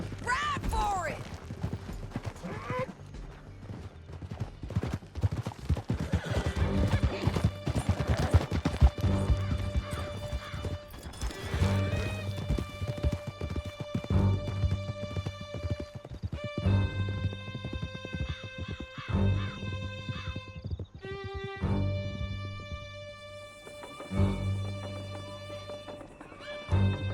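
Horse hooves clip-clop at a gallop in the Red Dead Redemption 2 video game, a continuous loud rhythmic pounding with occasional whinnies, under a swelling game music score.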